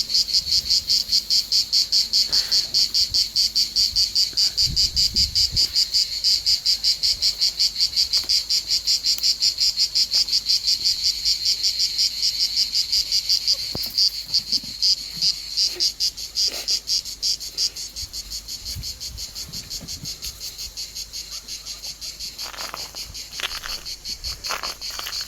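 A dense, continuous high-pitched chorus of cicadas buzzes steadily throughout, loud and pulsing, with a few faint thumps and rustles beneath.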